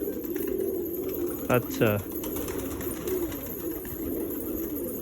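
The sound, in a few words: pigeons cooing in a pigeon loft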